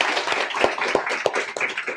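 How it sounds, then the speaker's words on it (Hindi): Brief burst of audience clapping at a seminar, several sharp claps standing out over a dense patter of hands, fairly close and moderately loud, with no talking. "एक बार ताली बजा दीजिए सर के लिए।"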